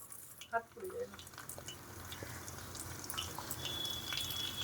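Minced green chili, ginger and garlic hit a hot wok and fry with a soft, steady sizzle that builds and holds, preceded by a brief clatter and a short vocal sound.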